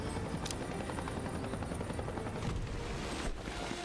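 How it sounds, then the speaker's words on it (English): A helicopter in a video game thrums steadily with dense, continuous rotor chop and engine roar, loud and close throughout, with a couple of brief sharp bursts layered over it. "the Dodo acquisition team is just waiting for the helicopter now"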